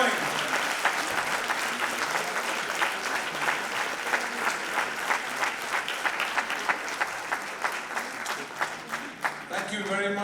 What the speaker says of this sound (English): Keep those claps going.